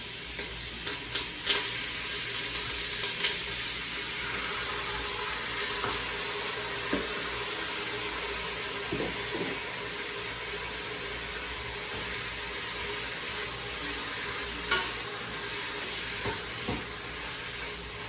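Beef and chorizo frying with garlic in a TupperChef 6.5-litre pressure cooker pot, a steady broad sizzle with occasional stirring clinks and scrapes, close and continuous without talk.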